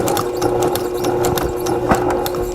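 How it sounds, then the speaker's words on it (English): A sewing machine stitches machine quilting on a small quilt project, a steady close mechanical whir with rapid rhythmic needle clatter running throughout. "And I'm going to continue sewing"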